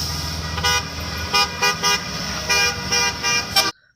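Toy school bus horn honking in a quick series of short toots over a steady buzzing hum, cutting off abruptly at the end.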